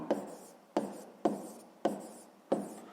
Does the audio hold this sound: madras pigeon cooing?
no